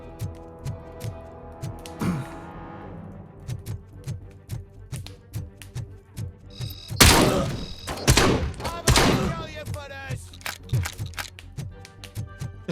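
Shotgun blasts boom in RoboCop: Rogue City over a steady thumping backdrop, with a loud cluster of heavy shots in the middle and a voice talking at times.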